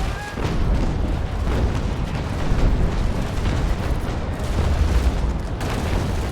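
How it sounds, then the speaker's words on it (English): A sailing warship fires a full cannon broadside in the game Naval Action, a long rolling barrage of heavy booms blending into a continuous thunderous roar for several seconds, loud and dense with no talk. "Right, I'm going to try and give her a volley, if possible."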